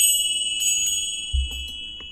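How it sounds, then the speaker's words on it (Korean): A small bell brought from Myanmar rings at the start of a broadcast, giving a sustained bright tone that hangs steadily over a few soft low thumps. "지금 방송 시작하기 전에 울린 이 낯선 종소리"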